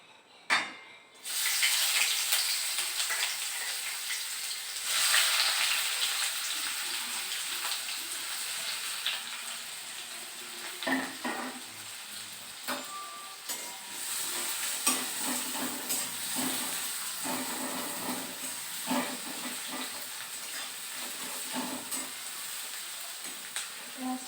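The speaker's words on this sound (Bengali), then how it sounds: "প্রথমে পেঁয়াজ কুচি দিয়ে দিচ্ছি" Chopped onions fry in a pan with a steady, close sizzle and occasional scraping stirs, continuous throughout with no talking.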